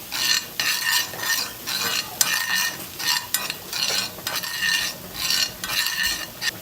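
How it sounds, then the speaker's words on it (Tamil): A masala of egg curry spices and curry powder fries in a pan while being stirred, giving repeated scraping strokes of a spoon over a steady close sizzle, with no talking. "இதையும் நல்லா கலந்து விட்டுக்கலாம்."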